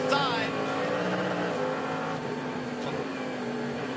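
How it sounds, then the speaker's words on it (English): LMP3 race cars run side by side into turn 3 at an IMSA sportscar race, their engines a continuous high whining roar with shifting pitch, mixed with a voice talking over it. "down into turn 3, LMP3 cars side by side"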